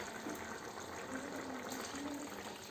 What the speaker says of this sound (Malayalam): ഇനി അതിലേക്ക് നമ്മൾ രണ്ടാം പാൽ ഒഴിക്കുക.